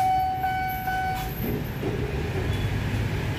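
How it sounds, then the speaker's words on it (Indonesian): A locomotive passing at a busy rail crossing in Indonesia gives a steady, loud rumble of rolling wheels and engine, with a brief high horn tone early on, close by and without talk. "Lagi-lagi lokomotif."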